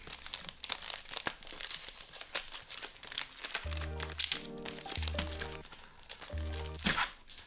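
Foil booster packs from a Stellar Crown Pokémon Elite Trainer Box being shuffled by hand: steady crinkling and crackling of foil wrappers, close and fairly loud, with brief bursts of rustling throughout.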